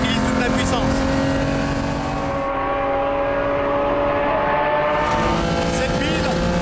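A race car at full power on the Dijon circuit, a loud sustained engine roar with rising tonal whine, the high end briefly dropping out midway before returning.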